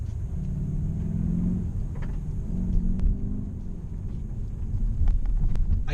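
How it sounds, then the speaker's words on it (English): Engine induction noise from a 2017 Kia Optima GT with a 2.0 turbo engine while driving, a steady low rumble with a faint intake hum that swells slightly at times, continuous and subdued throughout. "it has the induction noise of a Mercedes V8. But it's not very loud. It is very subtle"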